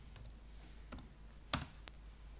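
Several quick, faint clicks of keys on a computer keyboard as a command is typed, sparse and irregular with short pauses, close and quiet in an otherwise still room.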